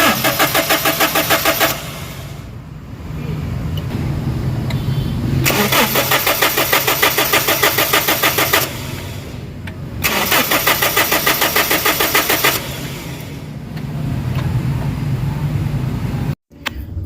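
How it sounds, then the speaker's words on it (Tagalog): Toyota Innova engine cranking but not starting because of a fuel supply fault: several long bursts of rapid, rhythmic starter churning separated by brief pauses, loud and close, ending in a sudden cutoff. "So i-start mo na engine."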